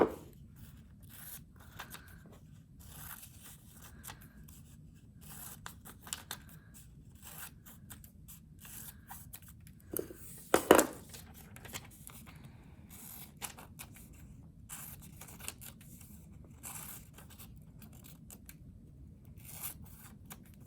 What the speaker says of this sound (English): I'm going to cut along the long line. And then I can cut them straight into my bowl.